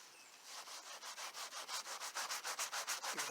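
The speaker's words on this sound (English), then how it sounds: "give it another scrub" Rhythmic back-and-forth scrubbing of a cloth car armrest, steady rasping strokes speeding up slightly and growing louder, close and alone with no talk.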